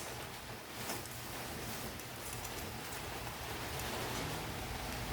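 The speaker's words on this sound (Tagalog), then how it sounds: "Pero wala talagang tigil ang ulan." Light, continuous rain falls steadily, a soft, even wash of patter and hiss with no pauses, heard alone and fairly faint.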